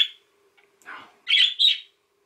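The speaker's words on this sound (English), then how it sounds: "Birds!" Birds call in a quiet outdoor setting: a short chirp comes first, then a squawk, then two loud shrill calls close together. A faint steady hum runs underneath.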